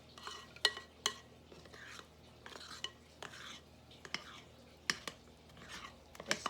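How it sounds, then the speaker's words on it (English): A spoon stirs spice cake batter and scrapes the bottom of the bowl in quiet, uneven scrapes and clicks spread across several seconds. "Now, really stir the bottom, scrape the bottom."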